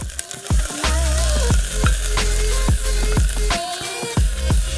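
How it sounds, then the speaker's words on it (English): Ginger and garlic sizzle in sesame oil in a pan, a loud continuous fry crackle punctuated by repeated scraping strokes of a utensil stirring, close and without talk. "I'm going to simmer my ginger and garlic real quick in some sesame oil"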